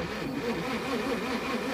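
Engine of a 1937 Pontiac Silver Streak barn find trying to start, a steady, rough, low churning drone that runs throughout, close by.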